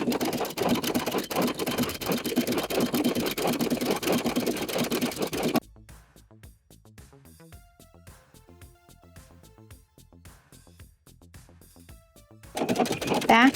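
Sewing machine stitching a blind hem around a skirt with fusible thread, a steady rapid mechanical whirr that stops abruptly, leaving faint ticking clicks, before running again at the end.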